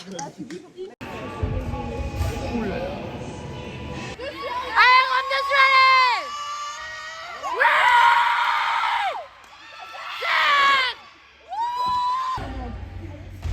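Crowd at a regional gymnastics competition cheers, screams and whoops loudly in repeated bursts, with high shouted calls rising over a dense background of voices and short pauses between surges.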